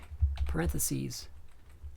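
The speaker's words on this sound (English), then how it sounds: "I will start typing BAT to get VBAT" Typing on a computer keyboard while entering math into a graphing calculator app, with quick key clicks under a man's speech.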